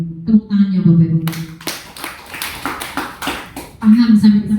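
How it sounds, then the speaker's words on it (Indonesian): Audience at a company business presentation claps for a few seconds, a burst of crisp, close handclaps sitting between a presenter's speech before and after. "Tepuk tangannya Bapak Ibu."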